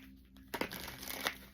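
A deck of cardstock oracle cards is shuffled close by in two quick papery riffles with crisp flutter, quiet and without talk.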